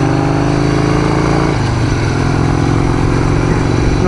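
A customised Harley Davidson XR883 motorcycle engine while riding, a loud, close, throaty mid-range drone that holds steady, with a shift in pitch partway through as the gears or throttle change.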